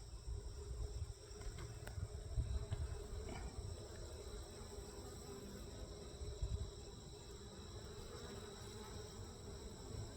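Honey bees buzzing around an open backyard beehive during an inspection, a dense, steady hum of many wings close by with a few louder passes, no voices.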